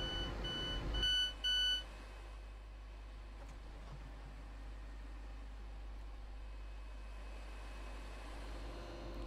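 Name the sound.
train doors opening chime in Train Sim World video game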